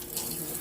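Water runs into a hOmeLabs compact countertop dishwasher as a soft, steady hiss and trickle, quiet and close, with no break for its short length.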